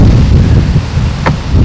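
Strong wind buffets the microphone outdoors by beehives, a loud, low, rumbling roar that continues without a break for the whole moment, with no talking.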